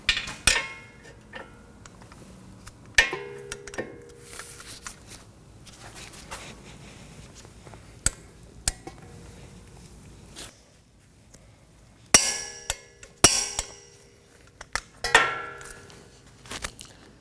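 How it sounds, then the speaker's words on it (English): Strut bolts on a 2020-2027 Toyota Corolla are torqued with a wrench and socket, producing scattered sharp metallic clicks and clanks at close range against a quiet background, spaced irregularly with small clusters near the end. "We're going to torque these down to 199 foot-pounds."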